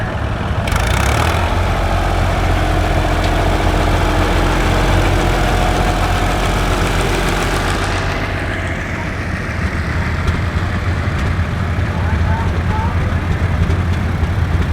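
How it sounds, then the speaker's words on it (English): A 1978 Allis Chalmers 50-50 antique tractor engine idling at a steam show, a steady low rumble running throughout, with voices and crowd noise in the background. "And here we have a 1978 50-50 Allis Chalmers"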